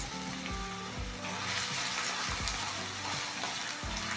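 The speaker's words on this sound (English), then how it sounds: "When it is hot, add your onions, fry it until translucent." Onions sizzle and fry in a little hot vegetable oil in a pan, a steady close crackling hiss with occasional soft pops throughout.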